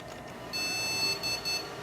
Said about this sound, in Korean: 비품은 정상 비품은 분명히 아닌 이상한 비품이 나고 있고요